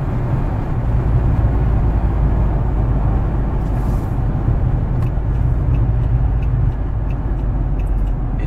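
A 2014 Dodge SRT Charger fitted with a Corsa exhaust drives along, its steady, heavy engine rumble and exhaust drone filling the cabin continuously and loudly, with no talking.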